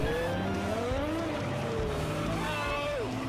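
Car spinning out in a racing video game with expensive cars such as a Corvette and a Lamborghini Gallardo, with rising and falling engine whine and tire squeal under game noise, and voices present throughout.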